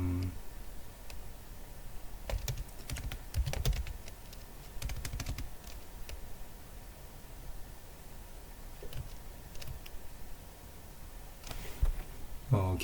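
Code being typed on a computer keyboard in quick clustered bursts of soft key clicks, with pauses between them.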